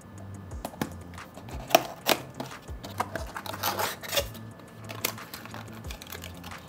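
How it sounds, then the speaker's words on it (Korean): Scissors slice and snip through motherboard box packaging like a knife, giving a close, irregular series of sharp clicks and crisp cutting noises with brief pauses between them. "이제 칼이 있으면 좋겠지만 이렇게 가위로도 칼처럼 쓸 수가 있다는 거"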